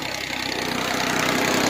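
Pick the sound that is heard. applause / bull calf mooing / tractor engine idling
tractor engine idling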